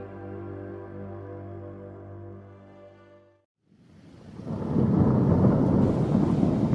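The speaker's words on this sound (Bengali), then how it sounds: "বাইরে বৃষ্টি পড়ছে।" A steady tone fades out, then heavy rain pours in loudly with a low rumble of thunder beneath the downpour.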